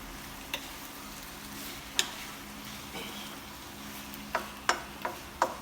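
Sparse clicks and light scraping of a utensil stirring pork belly with shrimp paste in a pan, with a faint sizzle underneath; a few sharp taps cluster toward the end.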